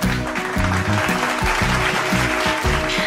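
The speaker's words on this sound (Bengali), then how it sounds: "সকলের জন্য জোরে হাততালি" An audience claps at a gathering of content creators, steady dense applause that holds at an even level while a loud music track with a repeating beat plays over it.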